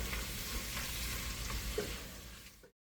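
Garlic sizzles and fries in a pan with constant crackling and occasional stirring scrapes. The sound stays close and even until it cuts off abruptly. No one speaks.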